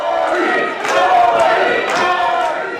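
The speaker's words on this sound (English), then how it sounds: "Hear the crowd come alive for Gory." A wrestling crowd roars and cheers for Gory at a Premier event, a dense, sustained wall of voices swelling and falling with no single voice standing out.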